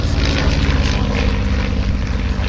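A Ryan Navion single-engine propeller plane of 260 horsepower roars loudly and steadily at close range during an air show, its engine drone and prop buzz continuous throughout.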